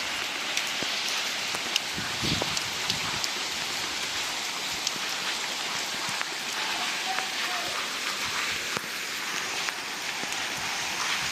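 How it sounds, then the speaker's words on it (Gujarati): Heavy monsoon rain pours steadily and close by, a dense, unbroken hiss of drops hitting the ground and surfaces, with a few sharper splashes scattered through. "फूल वरसाद अति भारे वरसाद"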